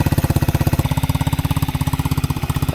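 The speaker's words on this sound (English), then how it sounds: "let that idle like that for 5 minutes. Let the motor heat up." An ATV motor idles steadily to warm up before an oil change, a loud, close, rapid chugging pulse that holds an even rhythm throughout with no voices over it.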